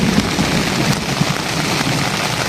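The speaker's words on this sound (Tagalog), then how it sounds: "sobrang lakas ng ulan at kumikidlat pa" Heavy rain pounds a black cot tent at a solo motorcycle campsite, a dense, loud, steady hiss with scattered sharper drops and low rumbles of thunder, no voices.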